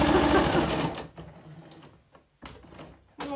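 Sewing machine stitching a pedal holder, a loud rapid whirring run that stops, then short bursts of stitching separated by pauses.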